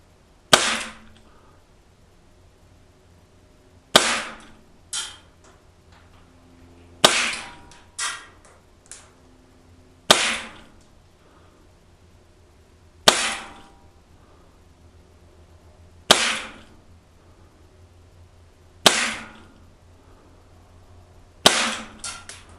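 Gletcher TT-A Tokarev CO2 blowback airsoft pistol fired outdoors at a target, eight sharp single cracks spaced roughly three seconds apart, each with a brief metallic slide snap and short tail, loud and close with no talking.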